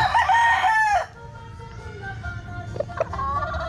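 A golden gray gamecock rooster crows loudly and close by, one strong harmonic call lasting about a second. Quieter clucks and faint voices follow.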